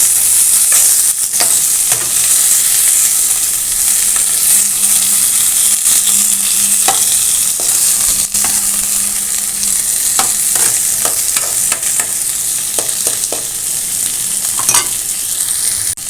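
Shrimp frying and being stirred with garlic in a hot pan for a banana blossom, ladyfinger and coconut milk dish, giving a steady close sizzle broken by scraping clicks of the spatula, with no talking.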